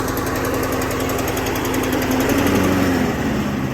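A Toro GTS5 Super Recycler lawn mower with a cold, choked engine runs steadily up close, a loud buzzing drone whose pitch shifts slightly lower toward the end.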